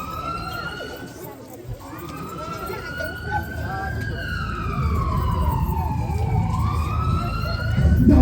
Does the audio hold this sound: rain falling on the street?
no